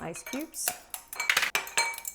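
Ice cubes dropped into a glass while making iced coffee with espresso, heard as a few close, bright clinks and clatters in a quiet kitchen.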